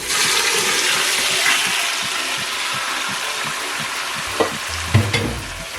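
Chicken pieces for Jamaican brown stew chicken hit a hot pot of oil with a loud, steady sizzle that crackles throughout, with a few sharp utensil knocks near the end.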